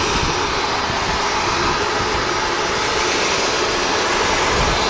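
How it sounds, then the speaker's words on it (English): Jet airliner engines at Manchester Airport with thrust reversers retracting after landing: a loud, steady, broadband roar that holds constant throughout, with no voices. "The reverse is retracting on the engines."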